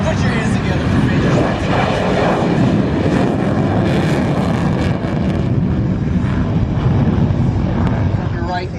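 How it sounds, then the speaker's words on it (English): An F-16 fighter jet roars through a knife edge pass at the MCAS Miramar air show, a loud, continuous broadband jet rumble filling the whole stretch with wind buffeting on the microphone. "the F-16 and the knife edge pass"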